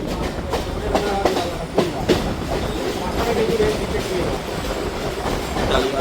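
A Madhyamgram–Majherhat local train runs along a curve toward Tollygunge station, a loud steady rumble with rhythmic clickety-clack wheel beats and occasional squeal, heard from inside the carriage.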